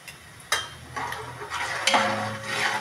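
A spoon stirs turmeric into a hot pan of Kolhapuri bhadang (spiced puffed rice) with the gas off, giving soft scrapes and a few sharp taps over a faint low hum, with no talking.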